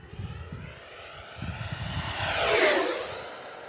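Horizon Hobby Viper 90mm RC jet making a full speed pass, a rising whoosh and turbine whine that builds, peaks loud overhead and fades away, with light wind noise underneath.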